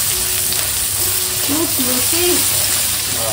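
Boiled chicken frying in oil for Chinese schezwan noodles, a steady loud sizzle running throughout, with a few brief tonal clinks or voice-like sounds partway through.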